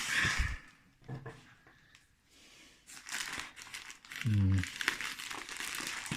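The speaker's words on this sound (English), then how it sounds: "Lots of a bubble wrap and more tape." Bubble wrap and tape from a maker's mail package crinkle and rustle in close bursts while being unpacked, with a louder crumpling stretch near the end and a voice speaking briefly.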